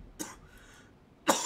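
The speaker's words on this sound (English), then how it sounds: "Oh my god, I'm gonna die to this cough." Two separate coughs, close and fairly loud, about a second apart, with near silence between them.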